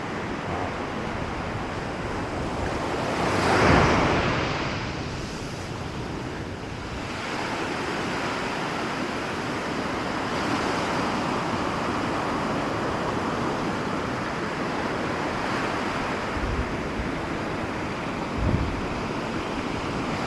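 Ocean surf rolls and crashes steadily against an eroding cliff, a continuous loud roar of breaking waves with gusts of wind buffeting the microphone and no voices.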